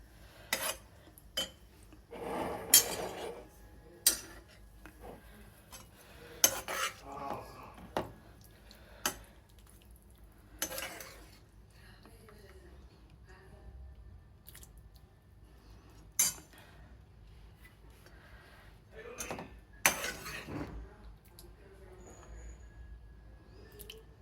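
Serving munakaya, vankaya and tomato curry brings sparse, faint clinks of a spoon against steel dishes, with scattered taps and scrapes separated by quiet stretches.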